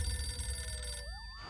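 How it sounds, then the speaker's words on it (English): Telephone ringing in a thriller film scene, a bright electronic trill sounding close and clear over a low background hum. "First, that phone over there is gonna ring."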